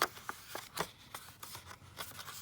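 Paper being trimmed for a junk journal, a series of short, quiet snips and rustles spaced irregularly, close up and soft with no talking.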